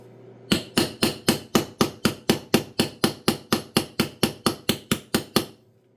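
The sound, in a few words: hammering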